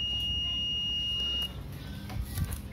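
A multimeter's continuity beep while probing a ceramic capacitor on a laptop motherboard, one steady high tone held for about a second and a half, then cut off, leaving faint handling noise.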